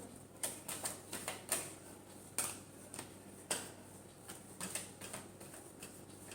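Tarot cards shuffled by hand during a Virgo reading, producing a quick irregular series of crisp papery snaps and riffles, close and fairly quiet, with no talking.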